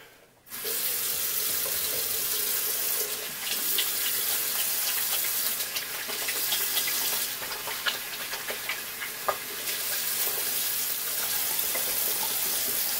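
A bathroom tap runs steadily for a quick hand wash, a close, continuous splashing stream with small clinks and taps over it, no talking.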